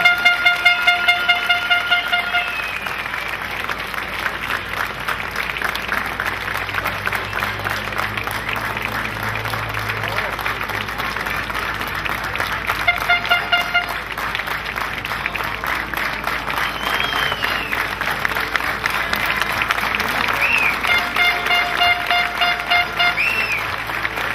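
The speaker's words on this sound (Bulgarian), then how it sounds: "Моля вашите аплодисменти!" A crowd applauds at an award ceremony for the Sliven rally in 2012, a steady wash of clapping across the whole stretch with car horns honking in short bursts over it.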